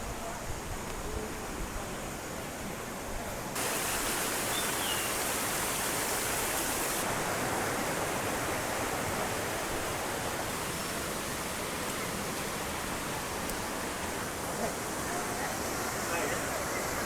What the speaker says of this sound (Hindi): और ये नेचुरल वाटरफॉल है, ऊपर से पहाड़ों का पानी आता है।